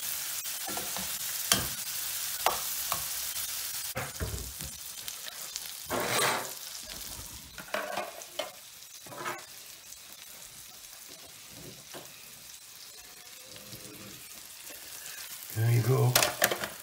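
Cajun shrimp fry in a butter sauce in a pan, a quiet, crackling sizzle with scattered pops and stirring clatter, close but low, with a louder burst of clatter near the end.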